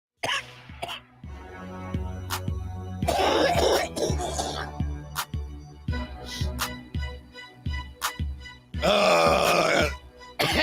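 Heavy, harsh coughing fits and throat clearing, close up, coming in bursts with groans and strained breaths between them.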